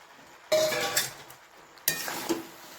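Fried potatoes stirred into chicken curry in a pan: two bursts of scraping and clattering against the pan, separated by a short pause, over a faint sizzle, close by.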